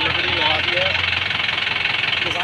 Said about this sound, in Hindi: ट्रैक्टर जो है लो में निकाला जा रहा है यहाँ पर।